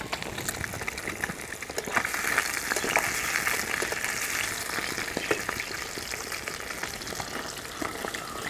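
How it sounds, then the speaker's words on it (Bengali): Rohu fish pieces fry in hot oil in a wok, a steady crackling sizzle with bubbling pops throughout, close and even, no voices. "তেল গরম হয়ে গেছে, এবার আমি একে একে মাছগুলো ছেড়ে দেব।"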